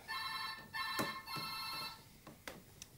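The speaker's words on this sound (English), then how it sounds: "Can you get that phone, please?" A telephone rings with a repeating electronic trill, heard on a television drama set and fairly quiet, with a few soft knocks and clicks around it.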